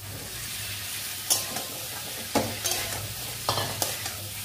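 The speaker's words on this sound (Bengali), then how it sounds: "এই অবস্থায় এর মধ্যে পেঁপেগুলোকে দিয়ে দেবো।" Papaya pieces stir-fried in spiced oil, a steady close sizzle broken by three bursts of scraping and stirring, with no talking.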